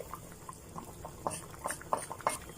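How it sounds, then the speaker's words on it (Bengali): Hot fried-onion tempering (baghar) poured into a pot of beef nihari, giving a run of sharp liquid sizzling pops and spatters over a quiet bubbling background. "এখানে আমি দিয়ে দিচ্ছি বাগা দিয়ে দিচ্ছি পেঁয়াজ দিয়ে"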